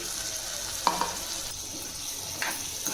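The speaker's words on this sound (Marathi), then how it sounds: "आता पाणी टाकून ह्याला परत एकदा मिक्स करून घेऊ" Cluster beans being stirred in a pan after water is added, a soft continuous sizzle with a couple of sharp scraping clinks of the spoon against the pan.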